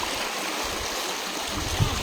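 Strong waves rushing in at a beach shore where shells are being gathered, a steady loud wash of surf with a small splash near the end, no talking.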